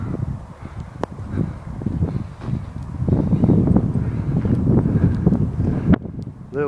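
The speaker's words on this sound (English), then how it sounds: "A little bit windy." Gusty wind buffets the microphone at the Peace Pagoda by Willen Lake, Milton Keynes, with a low rumbling roar that swells and settles over several seconds, with faint rustling in the background.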